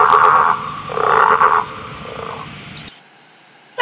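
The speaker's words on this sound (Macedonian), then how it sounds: "Жаба." A frog croaks in two drawn-out, rasping bursts, loud and close, then fades into quieter background before a brief sharp sound at the very end.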